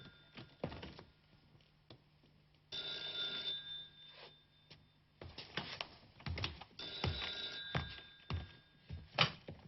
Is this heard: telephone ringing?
yes